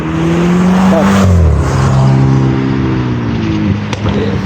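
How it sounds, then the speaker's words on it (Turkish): A car engine roars and revs hard close by on a street in Tbilisi, its pitch climbing and dropping through loud, throaty exhaust blasts with a sharp backfire pop near the end. "İnanılmaz e, egzoz sesleri var."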